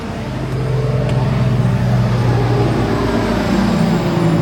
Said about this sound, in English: Big trucks love to pass by when I'm making my videos.